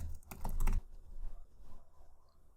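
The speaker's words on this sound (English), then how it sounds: "let's type in Hahn-Tech" Typing on a computer keyboard, a quick burst of close key clicks followed by a few softer taps, heard alone.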